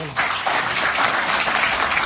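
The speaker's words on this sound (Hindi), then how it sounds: "तालियां बजा दो भाई।" A crowd at a religious gathering devoted to Shani Dev claps, with brisk, dense applause that swells quickly and holds loud and steady for about two seconds.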